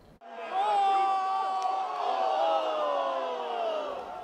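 A street crowd shouting and whooping after the Minnesota Gophers' Frozen Four hockey loss: a sustained roar of many voices, with one strong yell standing out early before the noise slowly eases.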